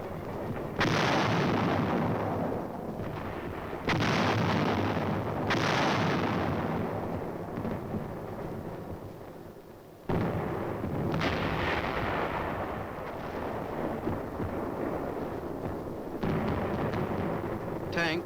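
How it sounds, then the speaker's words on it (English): 155mm artillery guns firing from a forward position on the United Nations line in Korea, several heavy, widely spaced booms, each followed by a long rolling rumble that decays slowly. "the big guns from this forward position concentrate their fire on known and suspected targets"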